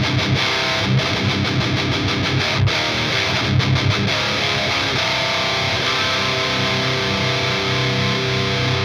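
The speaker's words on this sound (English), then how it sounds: "So what you're hearing right now is the guitar going through the SMG cock blocker, thank you Glenn, just as a gate" Electric guitar pushed through a REVV G20 all-tube amp with 6V6 power and 12AX7 preamp tubes, giving a dense, crushing high-gain distortion. Tight palm-muted chugs and sustained chords play steadily and loud, with no voices.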